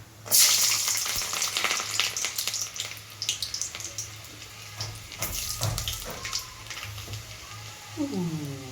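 Whole garlic cloves crackle and hiss in hot oil alongside browning cumin, a loud sizzle with a sharp burst as they drop in, steady spattering and occasional utensil scrapes, no one speaking.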